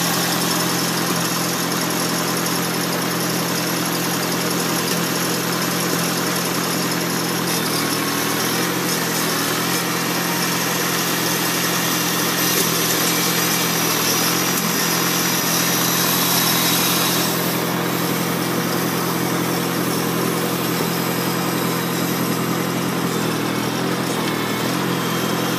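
A 1951 Farmall Cub tractor engine idles steadily up close, a constant low rumble with a buzzing mechanical whine that holds throughout without talk.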